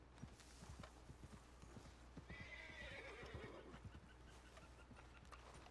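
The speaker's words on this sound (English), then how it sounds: "Hey, where'd the dang horse go? I hear him." In Red Dead Redemption 2, a horse's hooves clip-clop in a steady rhythm while it lets out a clear, drawn-out whinny midway, fairly close and alone with no talk.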